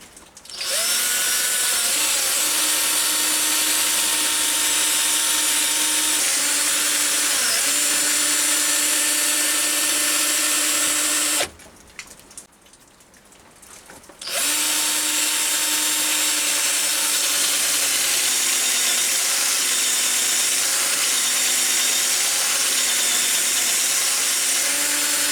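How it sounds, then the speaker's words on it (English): A 4mm drill held in a tool post drill chuck bores into metal on a lathe, giving a loud, steady whine with a brief pause partway through before cutting resumes. "I've got my ordinary tool post drill up and a 4mm drill in the chuck there"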